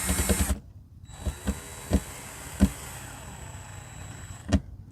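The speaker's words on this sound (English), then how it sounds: "Helps when the drill goes the right way." A cordless drill whirs steadily, with a loud burst at the start and several sharp clicks and knocks as a screw is driven in.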